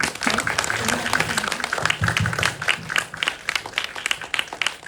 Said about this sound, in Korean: 우리 서로 박수 치며 마무리를 해볼까요?